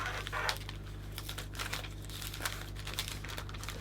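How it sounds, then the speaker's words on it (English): Cellophane wrap on a gold Christmas gift bag crackles and crinkles steadily as it is opened, a close, continuous rustle with sharper crackling bursts over a low steady hum. "then we can open the cellophane"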